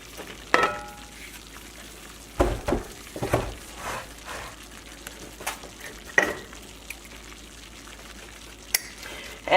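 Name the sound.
flour browning in a pan for gravy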